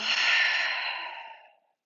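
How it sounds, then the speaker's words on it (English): Big open-mouth exhale during a yoga vinyasa breathing practice, one long breathy rush of air lasting about a second and a half that fades away, close and alone. "Open mouth, exhale."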